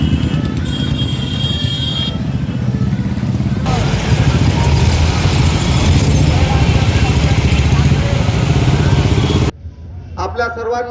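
Motorcycles of a Bharat Jodo Yatra bike rally rumble past in a dense, continuous engine roar with horns tooting, loud and close, while voices talk over the noise before it cuts off near the end.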